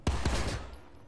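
A short, loud burst of shotgun fire in PlanetSide 2, with two or three sharp close blasts in quick succession that fade into a brief ringing tail.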